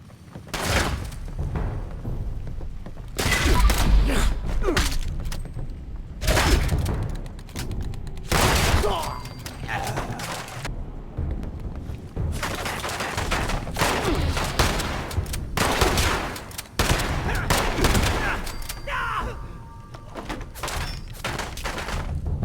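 Loud, rapid bursts of gunfire in Fallout 76 Wastelanders, with dense volleys and heavy thuds packed close together, repeating throughout with only brief pauses between them.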